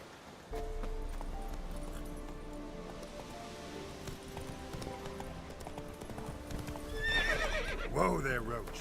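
Roach the horse in The Witcher 3 trots with steady hoof clip-clops over game music and ambience, ending in a loud whinnying neigh near the close, with a voice speaking underneath.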